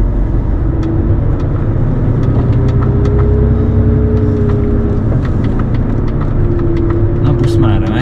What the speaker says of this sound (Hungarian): Na busz már megy.